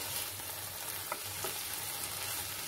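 Vegetables for spring rolls frying in a pan with soy sauce and vinegar, giving a continuous moderate sizzle up close, with a couple of soft utensil taps partway through and no voices.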